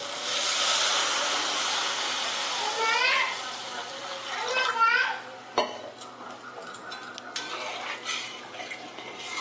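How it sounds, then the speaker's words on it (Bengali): A spoon stirs spice masala with added water in a cooking pot, making wet swishing and scraping with a few metallic clinks and one sharp knock against the pot partway through. "জলের সাথে সমস্ত মশলা একটু এইভাবে মিশিয়ে নিলাম"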